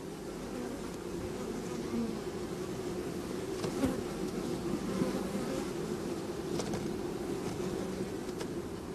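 Honey bees buzz steadily around beehive frames in a brood box, a dense, continuous drone of many insects close by, with occasional faint knocks and clicks of handling.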